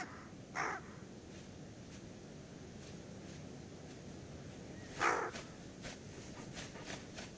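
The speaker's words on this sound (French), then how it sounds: "Dans les Carpates, on surnomme le corbeau le loup du ciel." Two separate harsh caws from a raven in the Carpathian mountains, spaced several seconds apart and heard from a distance over faint wind and a quiet outdoor background.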